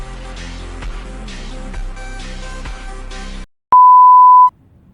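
In the Roblox game Midnight Cleaners, a loud single electronic phone tone cuts in sharply after game music stops, holding steady for under a second before silence.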